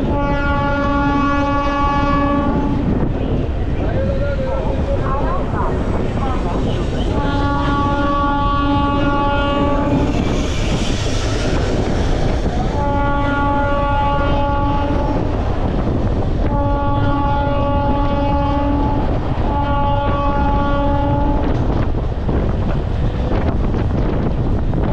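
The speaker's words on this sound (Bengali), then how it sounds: "এই বালি থেকে আমাদের ট্রেন ছেড়ে দিল।" Passenger train running just after leaving Bally station near Howrah, a steady loud rumble with wind buffeting, and a horn sounding in repeated long blasts several times along the way.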